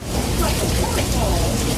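Heavy rain pours down in a flooding deluge in the Washington, DC area, a loud dense roar of water that fills the whole moment with no break.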